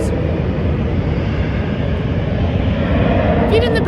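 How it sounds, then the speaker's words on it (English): Aircraft pass overhead in a steady, loud rumbling roar that fills the whole stretch outdoors, with a brief clatter near the end. "Don't mind the airplanes."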